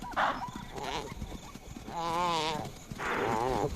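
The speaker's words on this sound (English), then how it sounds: "The chaser can hear the desperate bleat of a topi." A topi antelope gives desperate, wavering bleats at night in the African wild, several loud quavering calls in quick succession with rustling and scuffling between them.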